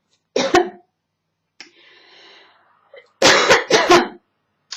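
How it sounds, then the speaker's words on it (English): Harsh, explosive coughs come in bursts: a pair early, a short throat rasp after a pause, then a rapid cluster of several coughs, close and loud. "I'm having a coughing fit."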